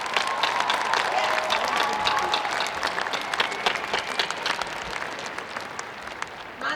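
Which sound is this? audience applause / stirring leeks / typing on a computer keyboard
audience applause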